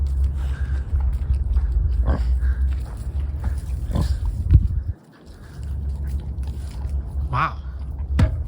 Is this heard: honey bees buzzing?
no